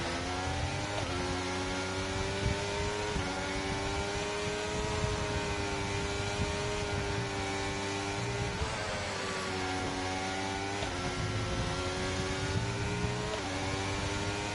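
F1 23 video game race car engines whine steadily through a race, layered high-revving tones rising and falling with gear shifts, continuous and fairly close with no talk.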